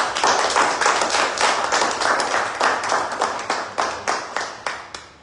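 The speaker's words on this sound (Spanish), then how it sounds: "Les agradezco y tengo un aplauso para todos ustedes" Steady, close applause from a small group, a dense patter of claps that thins toward the end into a few separate slaps.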